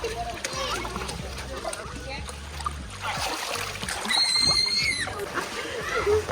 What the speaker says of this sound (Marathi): हात पाय मार, हात पाय मार. असं असं असं छपाक छपाक कर.